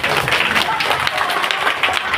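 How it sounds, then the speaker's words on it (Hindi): An audience at a Prashant Kishor speech breaks into steady applause, a dense wash of clapping that fills the short moment at close range. "अब आप ताली बजा दिए"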